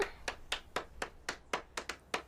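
Sparse clapping from a few people in a show audience, about nine separate sharp claps in an uneven rhythm, quiet and close with no talking.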